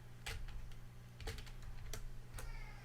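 Computer keyboard tucked under a desk in a home recording setup, typed on in a few sparse, separate clicks and short bursts over a steady low hum.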